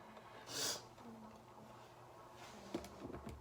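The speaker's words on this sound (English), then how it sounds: "I'm sorry for the sniffles, y'all." A single wet sniffle near the start, then quiet room noise with a small knock and faint shuffling toward the end.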